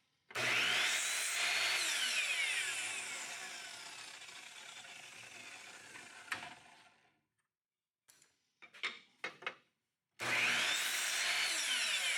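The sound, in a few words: router cutting wood on workbench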